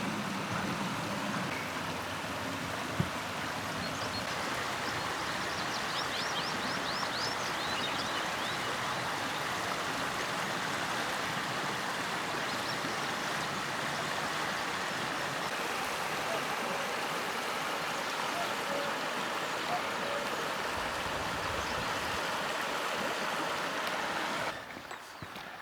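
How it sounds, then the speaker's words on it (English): River water on a moorland stretch of the Two Moors Way near Simonsbath rushes in a steady, unbroken wash that holds at an even level throughout. "Wow, look at that water."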